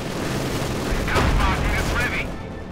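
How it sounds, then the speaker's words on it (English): Artillery fires in Company of Heroes 2 as a muffled battlefield rumble with low booms, mixed with in-game unit voices over continuous combat noise. "Here we go, artillery firing."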